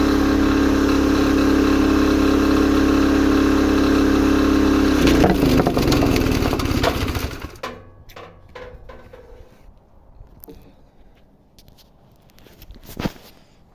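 A loud petrol engine driving an auger wood chipper roars steadily under heavy load, then bogs down and cuts out, too weak for the job, leaving crackling, creaking wood sounds and scattered knocks.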